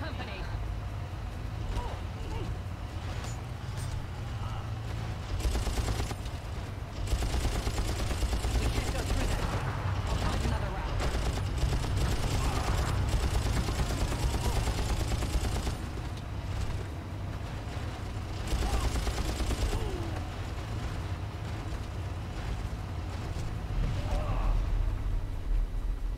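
Vehicle-mounted gun fire in a Far Cry swamp level, with sustained bursts of rattling shots over a constant engine rumble across the whole stretch, mixed under frequent voices talking.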